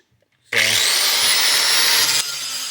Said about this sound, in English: you want to take a little bit of metal off at a time. You don't want to really push and grind